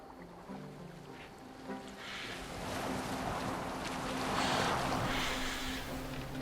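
A boat glides across open water in Assassin's Creed Valhalla, with a steady wash of waves and wind rising and swelling gently, no voices heard.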